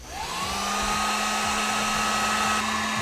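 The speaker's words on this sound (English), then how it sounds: "use a hairdryer or a heat shrinking gun, but I've got this heat gun" Heat gun running on its low setting for heat-shrink work on a GameCube controller, a steady, loud, close blowing whir with a fixed motor hum that stays level from start to finish.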